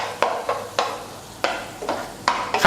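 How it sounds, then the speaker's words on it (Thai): Repeated scraping and stirring strokes as 200 grams of minced pork with a little water is stir-fried in a hot pan, irregular bursts of spatula against metal with a soft sizzle underneath, close and fairly loud. "ตอนนี้ให้เราลวนในกระทะแบบนี้ไปเรื่อยๆ จนกว่าหมูจะสุกขาว"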